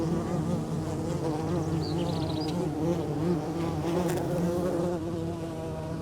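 Copolicana bees buzz steadily in a tiny underground burrow colony, a close, continuous drone of many overlapping wings with no pauses, heard alone.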